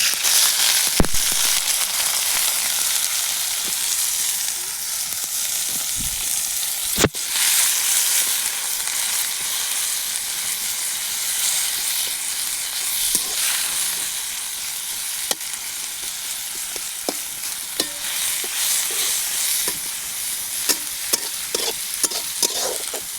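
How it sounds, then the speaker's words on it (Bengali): Onion and tomato frying in hot oil in a pan outdoors in a village field, with a loud, steady sizzle and crackle throughout, with occasional sharp pops and stirring scrapes. "তো এখানে তেল গরম হয়ে গেছে, এখানে বিলাতি আর পেঁয়াজটা দিয়ে দিই।"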